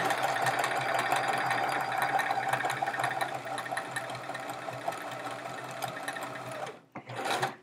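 A sewing machine stitches a chevron seam on a quilt, running in a fast, steady close-up whir for about seven seconds, then pausing briefly and starting again in a short burst.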